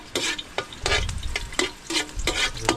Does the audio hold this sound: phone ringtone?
no